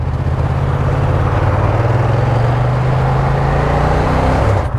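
Ducati Diavel Dark motorcycle engine on a road ride, a loud, close, steady low drone with rising pitch as it accelerates, wind rush over it, no talk.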